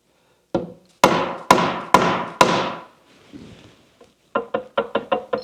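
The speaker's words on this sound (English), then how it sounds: "Dead blow hammer." A dead blow hammer strikes front axle parts during assembly of a Scout restoration: four loud, sharp, close blows, a short shuffle, then a quicker run of six lighter taps.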